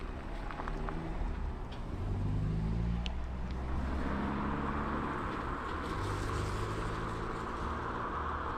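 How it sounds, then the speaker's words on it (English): A car engine hums nearby at 3 a.m., low and fairly quiet, rising slightly as it pulls up right outside a camper van and then idling steadily outside. "woken by the sound of a car pulling up right outside his van"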